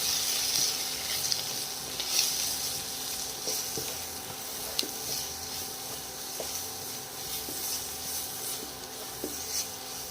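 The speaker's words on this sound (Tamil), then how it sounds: "எல்லாத்தையும் போட்டு நல்லா வதக்கணும்." Spices and black pepper sautéing in a pan for a Tamil mutton-kidney sukka give a steady low sizzle, with occasional scraping stirs and faint clicks throughout and no talking.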